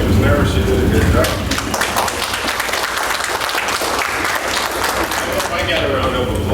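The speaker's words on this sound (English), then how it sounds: "I got a round of applause" An audience breaks into a round of applause, dense clapping that starts loud and then carries on steadily at a slightly lower level, with some crowd noise mixed in.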